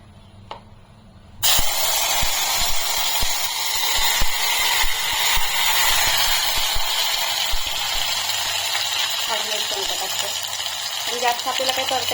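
Spice masala hits hot oil for a black chicken rassa, bursting into a loud, sudden sizzle after a quiet moment. The hiss stays strong and steady, with light clatter and a voice talking underneath.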